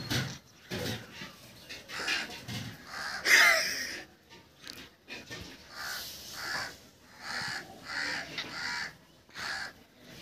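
A crow caws repeatedly and loudly at close range, its harsh calls recurring in uneven bursts across the whole stretch amid faint background noise.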